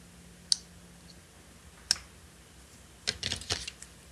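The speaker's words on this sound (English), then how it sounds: "if you just like gently close it, it has a clean click" A folding knife snaps shut several times with crisp, sharp detent clicks, two isolated ones followed by a quick cluster, close and clear against a quiet room.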